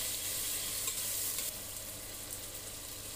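Tomatoes sautéing with garlic and onion in a pan while being stirred, a bright continuous sizzle with faint scraping from the stirring, easing slightly partway through.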